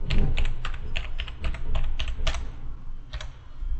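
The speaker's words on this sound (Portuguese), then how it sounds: "Tá, eu digitei a senha, tá?" Password typed on a computer keyboard, a quick run of about a dozen crisp clacking keystrokes in an uneven rhythm, close and clear, with no voices.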